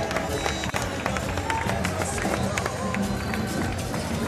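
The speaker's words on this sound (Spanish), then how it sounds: "Un fuerte aplauso." A large crowd at a Saturday fair event in 2014 claps steadily in a dense, continuous wash of applause, with cheering and voices mixed in throughout.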